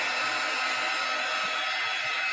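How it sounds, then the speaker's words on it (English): A heat gun blows steadily to dry paint during an art demonstration, giving a constant, loud airflow roar with a bright hiss that holds unchanged throughout, with no talking over it. "Heat gun."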